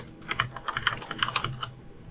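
Login details typed on a computer keyboard, about a dozen quick close key clicks in a brisk, slightly uneven run lasting around two seconds, with no talking.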